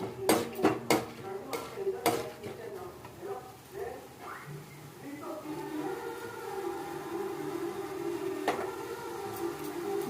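Chana dal fries in a pan for semiya upma with a soft continuous sizzle. Several sharp metallic clinks of a utensil against the pan come early and once later, while a voice talks over the cooking throughout.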